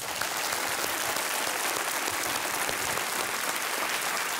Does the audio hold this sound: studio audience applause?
yes